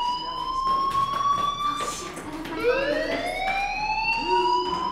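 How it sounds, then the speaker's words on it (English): A fire alarm rings inside the Life Is Strange video game, a loud steady electronic tone with sweeping, rising siren-like tones sliding in halfway through, continuous with no talk. "do you hear that fire alarm?"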